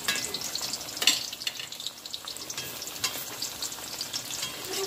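Green plantain slices fry in hot oil in a pan Jamaican style, giving a steady close sizzle and crackle with occasional light stirring scrapes.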